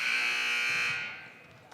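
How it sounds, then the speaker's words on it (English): A loud, sustained electronic buzzer blares steadily for about a second, then fades out, at a high school varsity basketball game. "that buzzer means we're coming right back."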